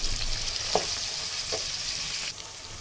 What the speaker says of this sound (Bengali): এখন এসে আমি পেঁয়াজের সাথে ভেজে নেব।